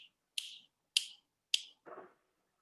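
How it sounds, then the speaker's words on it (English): Three crisp finger snaps close to the mic, evenly spaced about half a second apart, followed by a softer, duller tap; no voices. "then you just snap"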